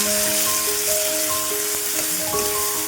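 Ginger-garlic paste sizzling as it fries in a pan, a steady hiss of frying throughout with a faint tonal melody playing over it.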